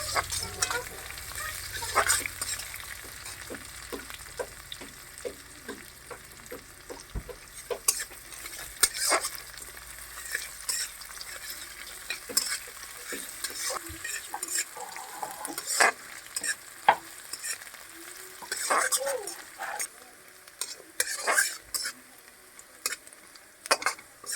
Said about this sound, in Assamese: পিঁয়াজখিনি ভাজি ল'ম অকণমান সময়